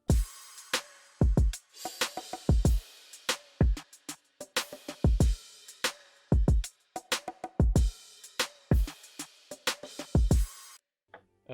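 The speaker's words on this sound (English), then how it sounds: "So all of the drums together sound like this so far." The full drum kit of a hip-hop beat plays together: booming kicks, crisp snares or claps and ticking hi-hats in a steady looping groove, loud and dry, stopping abruptly near the end.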